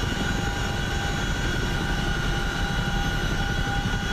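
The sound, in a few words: Chinook helicopter flying in video game DCS World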